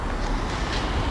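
At Watford Junction, a train bound for London Euston gives off a steady, close rumble of rolling wheels and carriage noise with no break.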